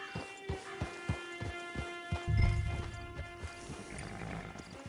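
Horse hooves clop in a steady rhythm in Red Dead Redemption 2 Online, then a louder low rumble and snort swells briefly before the hoofbeats fade under ambient game sounds.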